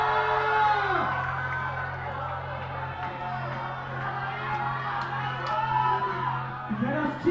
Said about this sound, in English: Now we can hear the crowd cheering.